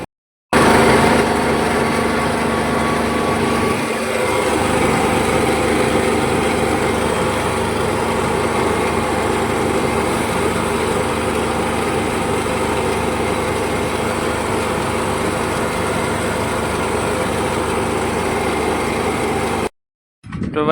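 A tractor engine runs loud and steady nearby, a continuous rumbling drone that holds for about twenty seconds before cutting off briefly.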